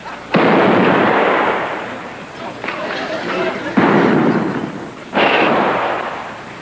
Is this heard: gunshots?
yes